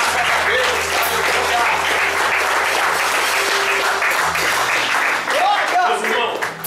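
A church congregation applauds Jesus during an evening service, loud continuous clapping with voices cheering and talking over it and faint sustained tones underneath, tapering slightly toward the end.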